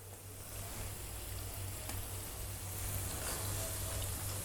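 Vegetable lollipops fry in hot oil, giving a steady, even sizzle and crackle that holds at moderate level throughout with no voices over it.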